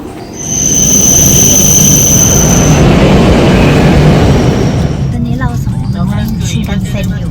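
Loud, steady rumble of an electric train running in Japan toward Tokyo Station, with high whining tones over the noise before it settles into a rattling roar.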